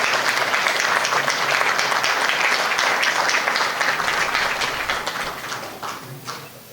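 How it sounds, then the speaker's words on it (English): Sustained applause from an audience honoring veterans at a Medal of Honor ceremony, dense and loud at first, then thinning and fading toward the end. "please rise and give them a round of applause"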